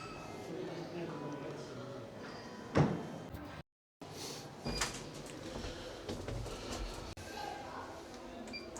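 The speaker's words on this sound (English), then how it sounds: "Doors closing." Sliding doors of a hotel lift rumble and thud shut with a sharp knock, amid the hum of the lift car, while people talk quietly over it.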